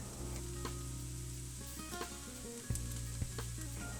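Cabbage sizzles and crackles steadily in a hot 24 cm skillet with onion and carrot, with a few brief clinks and stirring scrapes partway through, close up and without speech.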